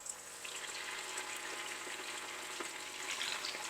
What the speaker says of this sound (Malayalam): അപ്പോൾ ഇനി നമുക്ക് ആ ചിക്കൻ അതിനകത്തൊന്ന് വറുത്തെടുക്കണം.